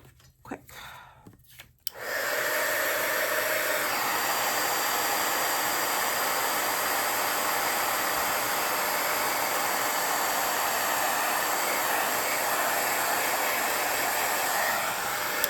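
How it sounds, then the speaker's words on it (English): A heat gun blasts a steady, loud broadband roar onto gilded embossing powder on a stamped card, starting after about two seconds of quieter handling and holding continuously to the end. "let us heat emboss this"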